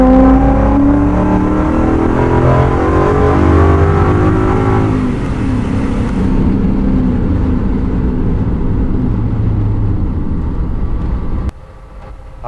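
A Coyote V8 swapped into a dually crew-cab truck revs hard and loud up through the gears, the engine note rising and then dropping at a shift before dying away near the end.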